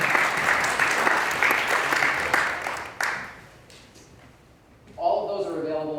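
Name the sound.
round of applause from seminar audience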